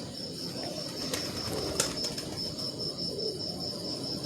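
A teddy pigeon coos in low, muffled rolls amid a loft hum, with a brief flutter of wings and a steady high-pitched whine running through.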